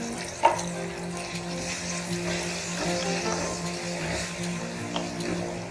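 Tomatoes go into a pan of browning onions and fry, giving a continuous moderate sizzle with a soft stir and a low steady hum underneath, and no one speaking.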